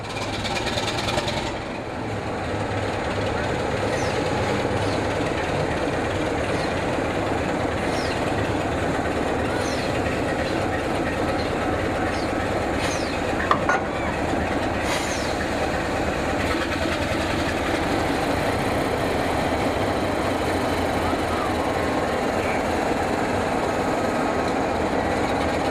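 A British Railways train running along the track, giving a steady, loud mechanical rumble with faint rail clatter and a few brief squeals. It carries on continuously for about twenty-five seconds, with no voices.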